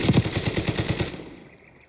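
Enemy machine gun fire in Call of Duty Black Ops 6 multiplayer, a loud rapid burst of evenly spaced shots that stops and trails off into a fading echo.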